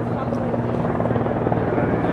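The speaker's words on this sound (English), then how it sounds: "All right, so here comes the chopper." A helicopter approaches near the Washington Monument, its steady thudding rotor drone loud and continuous with a low engine hum throughout.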